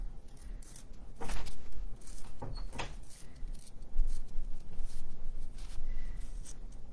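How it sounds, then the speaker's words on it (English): An indoor door in a house opening and closing, giving a few soft thumps and clicks with a faint creak, somewhat distant over steady background noise, with no voices. "you may have just heard a door opening and closing"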